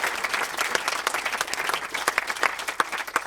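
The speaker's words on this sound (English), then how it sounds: "So, yeah, round of applause for that." Wedding guests applaud during a best man speech, a steady dense clapping from a close crowd lasting the whole stretch with no talk over it.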